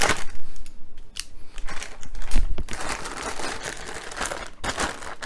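Plastic packaging around a be quiet! Pure Power 11 FM power supply being cut open, a close run of crinkling, crumpling and snipping noises with scattered sharp clicks throughout.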